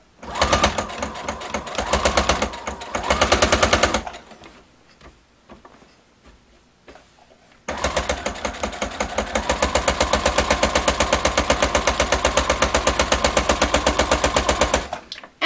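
A sewing machine stitches a duvet cover along its cording: loud, rapid, even mechanical hammering in two long runs, with a quieter pause between them.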